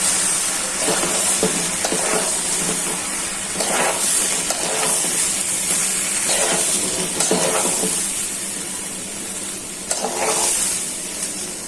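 Rice frying in a pot with turmeric and other ground spices for bhuna khichuri gives a loud, continuous hissing sizzle, with rhythmic scraping stirs pulsing through it every second or two and no talking.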